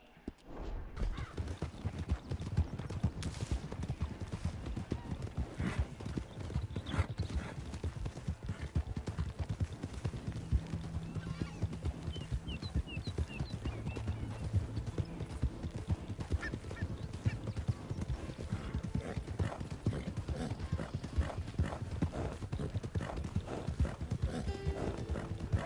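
Horse hooves clip-clop steadily in Red Dead Redemption 2, a continuous rhythmic patter running the whole stretch over dense game music and ambience, with occasional honking bird calls mixed in.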